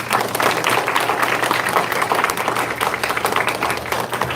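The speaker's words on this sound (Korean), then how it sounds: "다시 한번 박수 한번 부탁드립니다." A congregation at a church testimony gathering claps steadily and loudly, a thick, continuous wash of many hands that lasts throughout without letting up.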